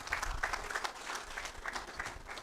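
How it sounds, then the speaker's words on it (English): Applause from a modest audience at an annual general meeting, scattered clapping at moderate volume, steady for a couple of seconds. "let's clap for him"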